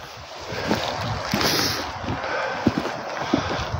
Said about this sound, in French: Il y a du vent toujours.